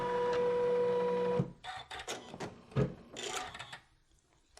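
A quilting sewing machine makes one short mechanical whir and clunk for a single stitch, followed by a few quieter, scattered handling clicks and rubs nearby.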